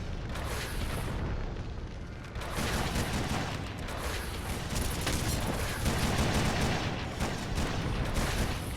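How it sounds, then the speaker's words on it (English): A video-game barrage of rockets exploding: dense, continuous booming and rumbling blasts that overlap into a loud, sustained roar for several seconds with no clear gaps. "Barrage of rockets."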